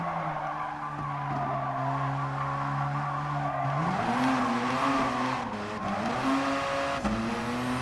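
An RE Amemiya FD3S race car in the Gran Turismo Sport video game drives hard through a hairpin on the Tsukuba circuit, its engine droning as the tires squeal and skid steadily, with pitch shifts as the throttle changes.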